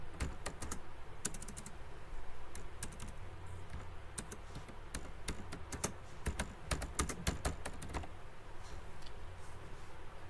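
Rapid clicking of keys on a computer keyboard as text is typed, with steady irregular bursts of close, crisp keystrokes over a low room hum.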